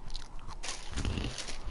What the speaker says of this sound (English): Hear me fucking chew hot Cheetos?